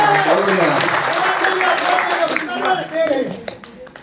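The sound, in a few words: audience clapping at a poetry reading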